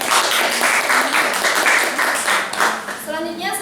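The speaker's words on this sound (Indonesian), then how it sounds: "Beri aplaus ya." An audience claps after student project presentations at an Indonesian university panel session, a steady round of applause with people talking over it that tapers near the end.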